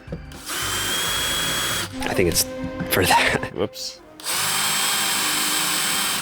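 A DeWalt Try Me display drill in a Lowe's store whirs loudly and steadily, stops while a person talks briefly, then revs up again near the end.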